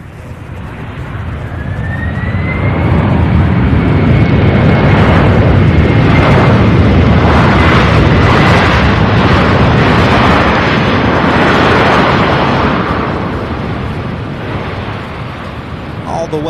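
A UPS Boeing 767 jet landing at Louisville International Airport, a loud sustained roar that swells and holds steady before slowly easing off, with a rising engine whine near the start.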